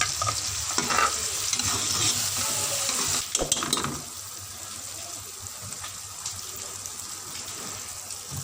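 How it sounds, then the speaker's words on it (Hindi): Onions, tomatoes and green chilies frying and being stirred in a pan, a steady close sizzle with scraping stirs that are busier early on and then settle into a quieter, even fry. "ये प्याज टमाटर वगैरह हमारे अच्छी तरह से फ्राई हो गए हैं।"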